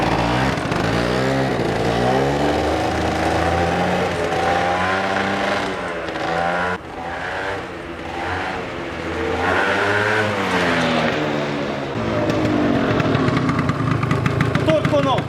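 A Gilera Runner 180cc scooter is ridden hard, its engine note swelling and falling in wavering revs, loud and close, with voices mixed in throughout.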